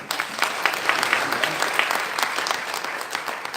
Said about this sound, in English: we should give them a huge round of applause